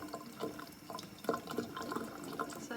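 Tap water runs over a paper print transfer on fabric with a soft, close, uneven splashing trickle, and no voices are heard.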